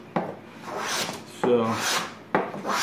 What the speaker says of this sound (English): The little smoother is designed to eject the shavings efficiently.